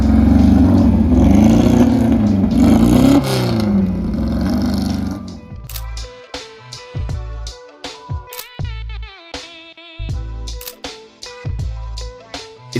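Rare Porsche RS61 racing car at a hillclimb event, its engine roaring loudly under a sustained rev before breaking into a series of sharp, crackling blips and pops as it passes close by.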